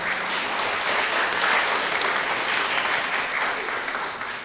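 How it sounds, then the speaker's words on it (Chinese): A church congregation at a Sunday joint worship service applauds steadily and loudly for several seconds, a dense wash of clapping from many hands without pause. "也大家鼓掌"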